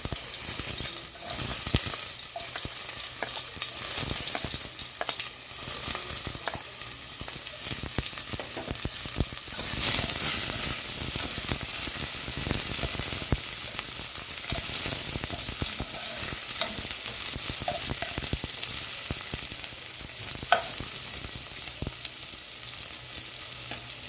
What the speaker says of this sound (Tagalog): pwede na tayo mag-isa ng onion garlic